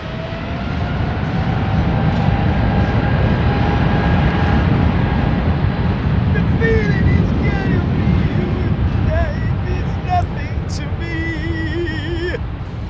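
A Boeing 777 at London Heathrow Airport gives a broad, loud jet roar that holds steady for the whole stretch, with faint chirps and thin tones above it.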